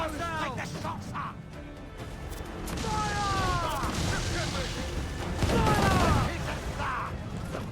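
Ship cannons fire repeatedly in a naval battle in Assassin's Creed 4 Black Flag, rumbling booms layered under shouted orders and crew voices across a busy, loud mix.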